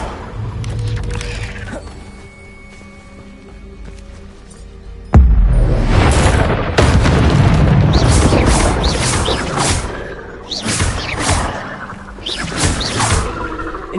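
Spell effects cast in the Hogwarts Legacy video game. A quieter stretch with mechanical creaks gives way to a sudden loud magical burst, followed by sustained crackling blasts and whooshes.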